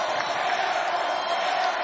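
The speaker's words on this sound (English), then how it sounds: "that's a good crowd here. There's a lot of noise" A crowd roars and cheers steadily at the Providence vs Albany state title basketball game, a dense, loud wash of noise filling the arena while an announcer talks over it.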